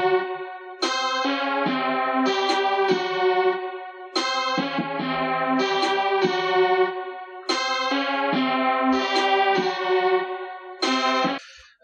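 A bright synth melody played on an Akai MPK Mini MK3 MIDI keyboard repeats in phrases with echoing, chorused tones, each run of notes starting sharply and trailing off, played alone with no talking.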